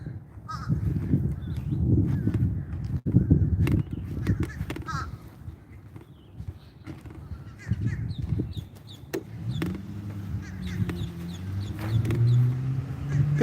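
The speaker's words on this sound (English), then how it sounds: "Pigeons." Pigeons at a birding spot in Lakeland, Florida, with cooing and calls mixed among other birds outdoors, steady ambient noise throughout and a rising, warbling coo near the end.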